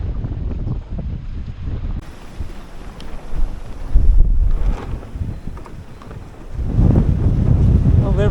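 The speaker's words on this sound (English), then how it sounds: "So as you can see, we're getting a fair bit of wind." Strong wind gusts across a 21-foot home-built sailboat during a solo Atlantic Ocean crossing, roaring loud and close into the microphone with rushing water and surges that swell and ease.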